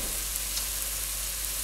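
Carrots fry in a pan, giving off a dense, steady hiss of sizzling oil that holds level and fairly loud throughout, with no voices.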